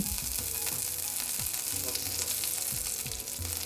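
Urad dal fries in hot oil with a loud, dense sizzle, punctuated by repeated scraping strokes as it is stirred, close and unbroken with no voices.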